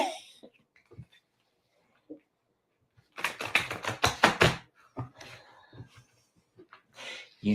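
A tarot card deck is shuffled by hand in a quick burst of rapid riffling flutters lasting about a second and a half. Soft scattered rustles and light taps come before and after, and there are no voices.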